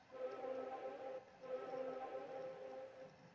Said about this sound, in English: So another ambient kind of sounding synth here.